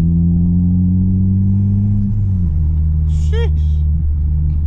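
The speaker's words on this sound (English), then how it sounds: "I definitely can make some turbo noises." A 400-horsepower turbocharged Honda Civic Si engine drones loudly and steadily, its pitch dropping midway as revs settle, with a brief turbo whistle or flutter near the end, heard from inside the car.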